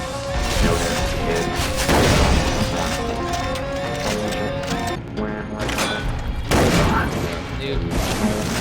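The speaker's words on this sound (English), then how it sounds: "shotgun gameplay." Shotgun blasts in the first-person shooter Far Cry 3: Blood Dragon, loud bursts of gunfire over dense game music and effects, with a few sharp booms standing out through the busy mix.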